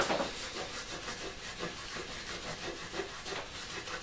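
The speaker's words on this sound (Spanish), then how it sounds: "primero limpiamos bien el borde." A cloth or scrubber rubs around the rim of a Fagor Splendid pressure cooker lid, a soft, quiet, repetitive scraping close by with no talk.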